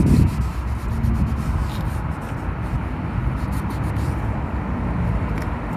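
Plastic restorer being rubbed and spread across a car bumper, a steady, continuous scrubbing and wiping friction noise that runs close-up and fairly loud throughout without pause.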